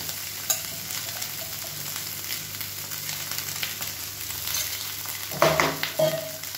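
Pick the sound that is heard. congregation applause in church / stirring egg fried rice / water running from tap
stirring egg fried rice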